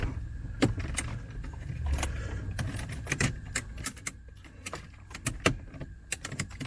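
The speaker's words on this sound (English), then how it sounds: "this should just slide into these clips on the side" An Eonon Android head unit is pushed into the side clips of a BMW E90 dash. Sharp plastic clicks and rattles come close up in irregular bursts over low car-cabin rumble.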